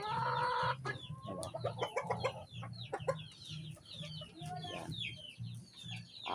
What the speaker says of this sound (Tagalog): Papansin nyo kung narinig nyo yung maingay sa likuran ko, ito na yung mga sisiw nito.